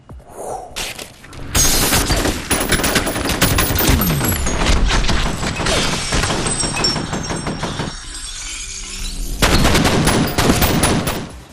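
Dense first-person gunfire from the 2005 shooter F.E.A.R., with rapid automatic bursts, heavy impacts and shattering debris sustained for most of the stretch, briefly thinning before a loud final volley.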